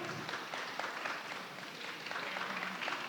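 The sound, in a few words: audience applause for the panelists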